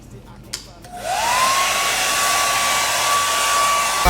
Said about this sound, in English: you want to blow dry all over there to kind of melt the wax in